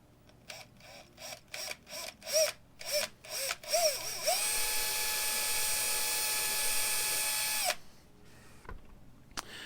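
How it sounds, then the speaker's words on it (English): A power drill drills pilot holes, whirring in a series of short bursts, then running steadily at high speed for several seconds before stopping abruptly. "it's simply a matter of drilling your pilot holes"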